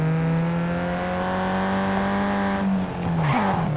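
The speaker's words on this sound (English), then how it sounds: "I was trying to do a burnout." A car in the Gangstar Vegas game revs hard with a sustained high engine whine and tire squeal during a burnout. The pitch holds steady and then drops as the car slides, all loud and close.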